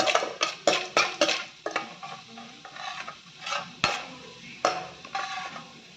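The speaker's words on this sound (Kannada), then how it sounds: "ಇದೇ ಕಡಾಯಲ್ಲಿ ಸ್ವಲ್ಪ ಪುಟಾಣಿ ಹಾಕಿ, ಚೆನ್ನಾಗಿ ಕೈಯಾಡಿಸಿ" Roasted gram being stirred in a metal kadai, with sharp rhythmic scrapes and clinks of a spoon against the pan, several quick strokes followed by slower, spaced ones, close and fairly loud.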